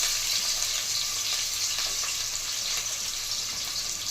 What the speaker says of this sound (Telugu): దానిలోనే సన్నగా తరిగి పెట్టుకున్న మీడియం సైజ్ ఒక ఉల్లిపాయ వేసానండి